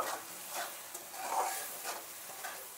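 Fish roe curry with a splash of water is stirred in a pan. A spoon scrapes softly at intervals over a gentle, steady sizzle, faint and close, with no voices.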